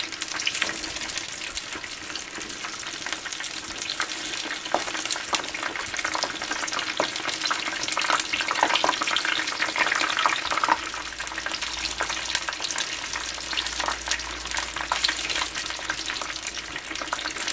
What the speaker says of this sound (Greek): θέλουμε δυνατή φωτιά για να μπορέσει να θωρακιστεί καλά ο μπακαλιάρος και να τηγανιστεί